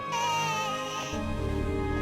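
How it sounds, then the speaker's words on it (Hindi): A small baby cries in a loud, high wail that rises and then breaks into shorter sobbing cries, close and alone. "वह आवाज किसी छोटे बच्चे के रोने की लग रही थी।"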